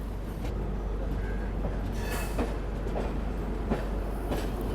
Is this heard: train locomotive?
yes